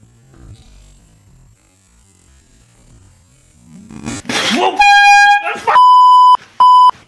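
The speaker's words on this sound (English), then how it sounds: "This is a air horn." An air horn gives two loud, steady, piercing blasts near the end, the first broken by a brief gap, after a muffled rustle and a loud burst of noise.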